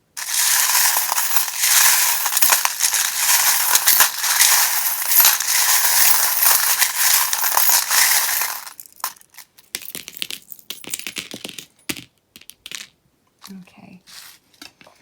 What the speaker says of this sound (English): probably best to turn it down now while I shuffle the charms